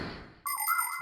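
In a children's cartoon, a parrot imitates a phone's ring: a sudden bright electronic trill cuts in after a short low murmur and rings on steadily to the end.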